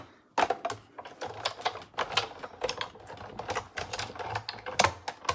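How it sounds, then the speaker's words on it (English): Crumb cake cardstock is run through a Pinewood Planks embossing folder, making a close series of sharp, irregular clicks and clacks, like rapid typing, over about five seconds, with no voices. "Emboss that real quick."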